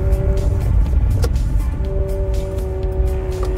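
A Shineray X30L electric car drives along, giving a steady whining motor tone over road and tire rumble, heard from inside the cabin at moderate loudness with no talking.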